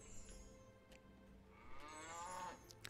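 A cow lows in the Age of Empires II Definitive Edition game, one drawn-out, faint moo over quiet background ambience, with no talking.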